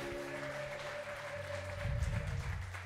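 A congregation at a church healing service claps together, a dense burst of applause swelling in the second half over a sustained low musical drone.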